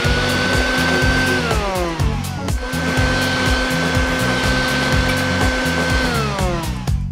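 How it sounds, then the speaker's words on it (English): Shop vac driving a small cardboard turbine, loud and close: a continuous roaring whine with a rhythmic pulsing rattle underneath and a pitch that sweeps down and back up twice. "we're going to use the shop vac to power it"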